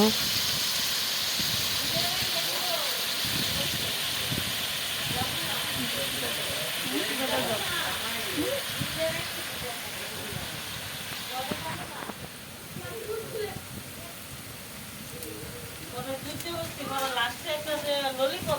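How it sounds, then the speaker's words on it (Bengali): Potatoes fry in a pan for a fish curry, a constant hissing sizzle that runs under a person talking throughout, with stirring scrapes mixed in. "এখানে আলু ভাজা বসানো হয়েছে মাছের ঝোলের জন্য"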